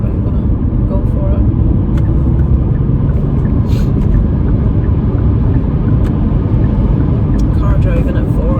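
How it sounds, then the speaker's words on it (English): A car passes at about 40 mph, a continuous close rumble of engine and road noise that stays loud and steady with small clicks over it. "Car driving at 40."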